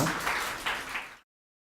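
Brief, fairly quiet applause in a church as a deaconess comes forward to speak, a dense patter of hands that stops abruptly after about a second.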